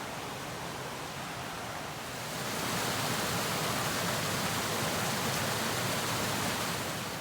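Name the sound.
Fern Creek flowing water in old growth forest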